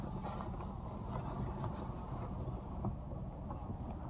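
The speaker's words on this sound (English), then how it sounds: "I think it's doing the spot free rinse or something" An automatic car wash runs its spot free rinse, a steady low rushing spray and wind-like hiss heard from inside the car, fairly faint and even throughout.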